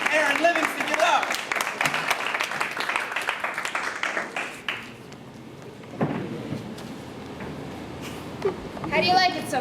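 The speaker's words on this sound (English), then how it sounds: "start stomping your feet. Start clapping your hands." An audience at a DePauw University event claps and stomps their feet in a dense, noisy burst for about five seconds, then fades into scattered sounds and talking.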